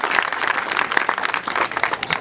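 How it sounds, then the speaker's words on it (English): A crowd of wedding guests applauds the officiant and bridesmaids with dense, loud, steady clapping that fills the room from start to finish. "So a round of applause for"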